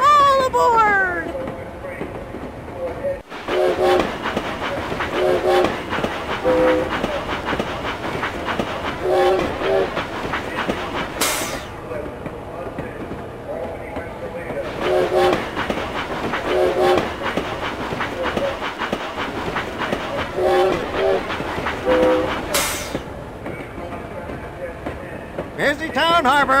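A train in the Richard Scarry's Busytown math video game rolls along with a steady clickety-clack throughout. Two sharp horn or whistle blasts sound over it, and a voice speaks intermittently on top.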